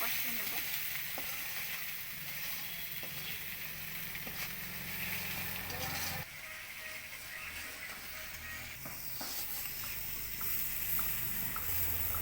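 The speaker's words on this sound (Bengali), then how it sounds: "কষিয়ে নেব মশলাটা" Masala with salt sautéed and fried in a pan for a Bengali tomato pabda fish curry, a continuous soft sizzle with occasional stirring scrapes, steady and moderately quiet throughout.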